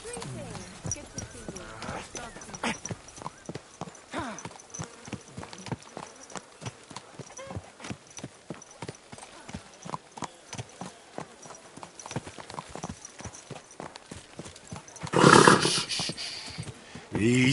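Horse hooves clip-clop at a steady walking pace through Kingdom Come, with a brief burst of louder noise near the end and voices talking over the steps.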